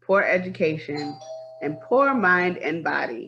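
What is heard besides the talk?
doorbell ringing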